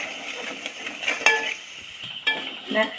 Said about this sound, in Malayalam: ഇനി ഇതിനെ നമുക്ക് നല്ലോണം ഒന്ന് ഇളക്കിയെടുക്കാം